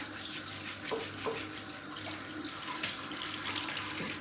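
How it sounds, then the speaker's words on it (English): Cold tap water runs steadily from a faucet while hair is rinsed out, a continuous splashing stream with small irregular splatters, close and fairly quiet, no talk. "But go ahead and use that cold water to rinse out."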